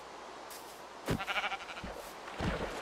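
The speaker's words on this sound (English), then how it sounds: "Found another sheep." Sheep in Minecraft bleat in a couple of trembling calls amid soft thumps and game noise, moderately close, with no voices over them.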